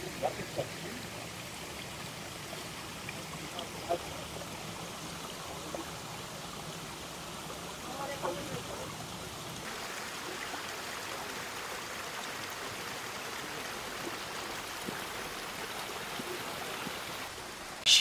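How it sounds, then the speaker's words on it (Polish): Small stream flowing through a Balinese-style garden in Thailand, a steady soft gurgle and trickle of water close by, continuous and even, with no talk over it. "Strumyczek sobie płynie dalej."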